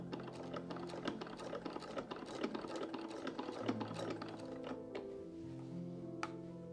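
A sewing machine stitches a pocket flap on a morning coat. It makes a quiet, steady run of rapid needle clatter with small mechanical knocks, alone and without talk.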